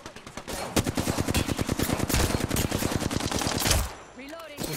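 Rapid automatic gunfire in the battle royale shooter Apex Legends, a dense burst of evenly spaced shots lasting several seconds before cutting off, with faint game sounds afterward.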